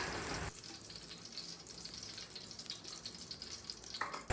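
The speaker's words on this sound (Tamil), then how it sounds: "ஸ்டவ்வை ஆன் பண்ணி அடுப்பில் சட்டியை வச்சு வீட்டில் செஞ்ச சுத்தமான பசு நெய் ஊற்றிக்கலாம்." Homemade cow ghee heats in a pan on a stove while rabbit dum biryani is being prepared. A louder opening burst settles into a steady, close sizzle and crackle, with no talking.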